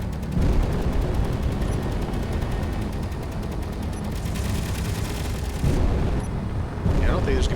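Ship guns firing in Space Engineers, a loud, dense rumble of rapid shots and blasts running steadily, with a voice speaking over part of it.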